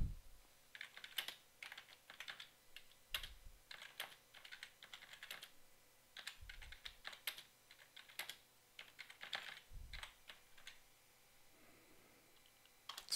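Steady typing on a computer keyboard, with bursts of key clicks running through the whole stretch and occasional heavier low thumps, close and moderately loud, without speech.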